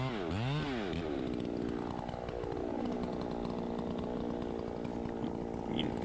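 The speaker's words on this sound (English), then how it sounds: "Nice to hear that hot saw running." Hot chainsaw running while felling a tree, close and loud, its engine note sweeping up and down at first before holding a steady high whine.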